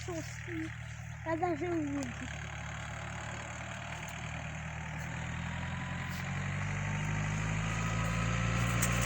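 A Yanmar AF 650 tractor with newly replaced clutches drives uphill, its engine droning steadily and growing louder and heavier, with a brief voice early on over the rumble.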